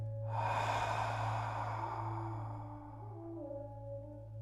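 A single long, slow exhale by a person during a guided breathing exercise, soft and airy, with a low steady hum in the background and no talking.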